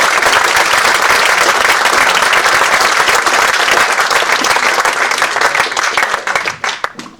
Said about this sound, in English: let's have a round of applause for Don